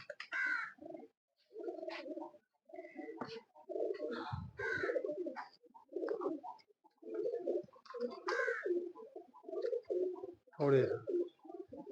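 Pigeons coo nearby in repeated low, throaty rolling phrases spread through the whole stretch, with occasional higher chirps and a brief word spoken between calls.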